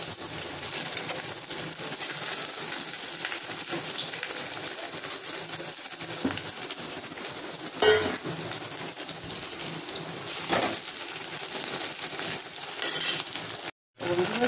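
Onions sizzling and frying in a hot pan, a steady dense crackle throughout with occasional brief stirring scrapes and pops, close and fairly loud, no voices.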